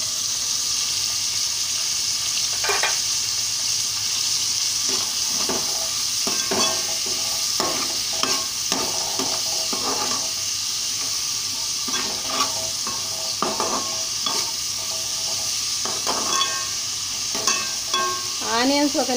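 Onions frying in a pan with salt and turmeric for a curry, a steady sizzle with repeated scraping stirs and utensil scrapes spread throughout, close and fairly loud, no talking.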